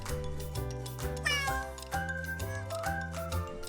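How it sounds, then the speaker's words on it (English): A cat meows a few times, its rising, drawn-out cries sitting over steady background music. "Cat,"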